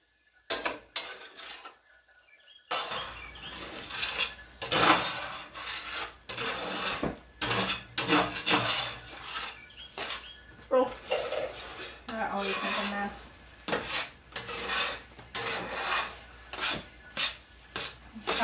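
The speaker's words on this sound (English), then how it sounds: "I will just keep kind of whisking the sides and it will cool down a little bit faster" A whisk scrapes and clinks rapidly around the sides of a pot of cooling mixture in a home kitchen, close and busy with a steady scratchy rhythm throughout, with a brief quiet pause near the start.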